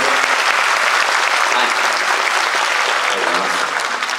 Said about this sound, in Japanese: もう一度このステージ、そして客席にいる、自分が応援している仲間に、それと、家族のみんなに、